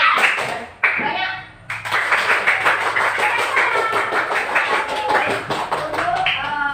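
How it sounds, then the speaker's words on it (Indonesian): Children in a classroom follow a clapping drill of single and double claps, crisp sharp hand claps in short patterned bursts, with a teacher's voice calling between them. "Yuk tes tepuk tunggal."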